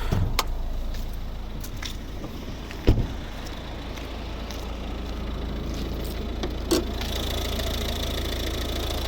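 The 1.6 D2 diesel engine of a 2012 Volvo V50 idles steadily with a low, even rumble, with a few sharp clicks and knocks along the way.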